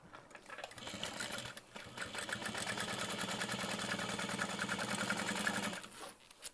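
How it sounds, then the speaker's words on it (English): A sewing machine top stitches a fabric panel for a pocket in a steady, continuous run lasting several seconds, starting and stopping near the ends, close and alone with no voices. "we're only going to flip up the exterior and top stitch"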